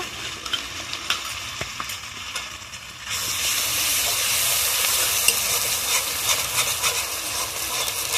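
Ginger garlic paste goes into hot oil with prawns, and the quiet stirring turns into a loud, steady hissing sizzle that holds close and continuous.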